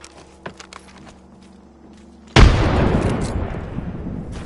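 A frag grenade goes off in Apex Legends, one loud, close blast that rumbles on and fades slowly, after a few seconds of quiet game ambience with light footsteps and clicks.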